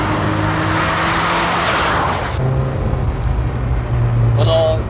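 A Ferrari F40 sports car drives with a loud engine roar and whooshing road noise that shifts as it moves. A voice speaks over part of it.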